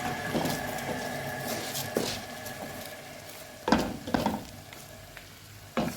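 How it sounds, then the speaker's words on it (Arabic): Chicken pieces fry in hot ghee or butter in a pan, giving a steady crackling sizzle with sharp bursts of spattering and stirring clatter scattered throughout, close and fairly quiet. "هنشوحها شويه في السمن السخن ده كده او الزبده بتاعتنا السخنه"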